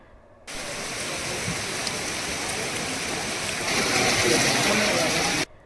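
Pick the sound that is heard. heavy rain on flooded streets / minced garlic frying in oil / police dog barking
heavy rain on flooded streets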